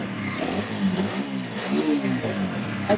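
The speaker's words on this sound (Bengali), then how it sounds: "দেখেন একদম অ্যাকুরেট সাউন্ড আছে ইঞ্জিনের" A TVS Apache 4V motorcycle engine running, a steady mid-pitched idle with slight rises in revs, heard close and alone.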